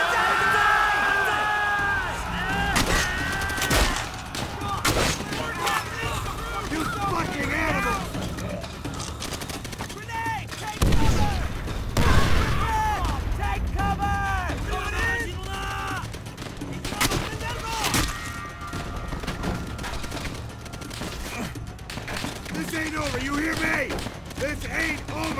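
Battle gunfire in Call of Duty: World at War, with dense rifle and machine-gun fire, bursts of artillery and explosions, and soldiers shouting throughout.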